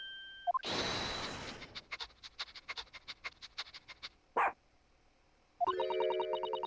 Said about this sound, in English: Chief Inspector said woof to that, Otto